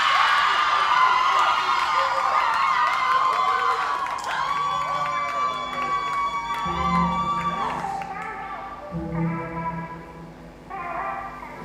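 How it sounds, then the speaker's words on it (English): A school audience at a Jamaican performing arts awards ceremony cheers and shouts for St. Andrew High School for Girls, with loud, sustained crowd noise, high-pitched whoops and clapping swelling and fading in waves. "They've been cheering all evening, and I think they're going to cheer some more."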